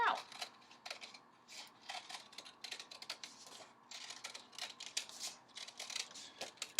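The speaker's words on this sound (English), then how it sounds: "I'm going to take my scissors and I'm going to cut" Scissors snip through paper as a paper plate is cut out, giving a steady run of quiet, close crisp clicks and rustles with no talking.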